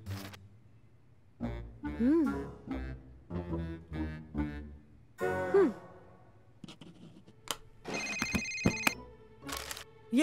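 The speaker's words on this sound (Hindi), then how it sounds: "ये किसका फोन है?" In a cartoon library scene, a phone rings in a few bright electronic bursts near the end, after cartoon voices sigh and talk.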